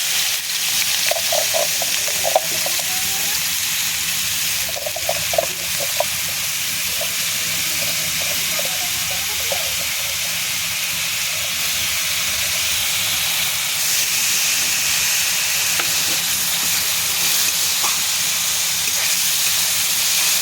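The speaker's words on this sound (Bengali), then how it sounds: "পেঁয়াজটা ভাজা ভাজা হয়ে আসবে।" Onions sizzle and hiss steadily in hot oil for a long stretch, a constant close frying sound with a few faint clinks.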